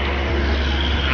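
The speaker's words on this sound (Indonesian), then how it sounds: "Ini bus pelanginya Bang Putar-Putar sudah sampai." Intercity bus of PO Harapan Jaya arriving on the road toward Palembang, a steady loud low engine drone and broadband road rumble that holds level and close throughout, with no break.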